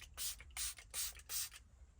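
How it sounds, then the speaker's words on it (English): Four short hissing bursts of an aerosol air freshener sprayed around the inside of a car, evenly spaced and close, each lasting about a quarter second with brief pauses between. "spray it around, I guess"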